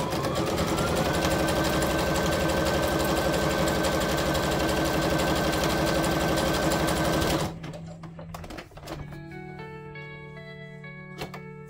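A sewing machine stitches a maximum-width zigzag while its thread tension is being checked. A fast, steady mechanical hum lasts about seven seconds and then stops, leaving scattered clicks and faint tones.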